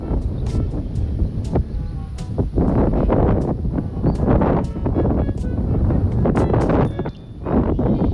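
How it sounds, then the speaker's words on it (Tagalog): Strong wind buffets the microphone in gusty, rumbling bursts that rise and fall continuously, with no voices heard. "Lakas ng hangin oh."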